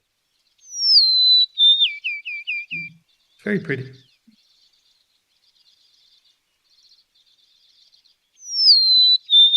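Recorded sparrow song played back at a birdwatchers meeting: clear, high descending whistled phrases followed by a quick series of chirps, with a second phrase at the end. A person speaks briefly between the phrases.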